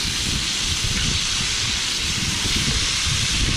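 Meat searing in a Dutch oven gives a loud, steady, unbroken sizzling hiss that holds close and even throughout.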